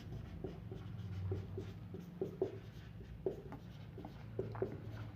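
Chalk or marker strokes on a classroom board while a mensuration formula for prisms and pyramids is written, a series of short scratchy taps and squeaks at moderate level over a low background hum.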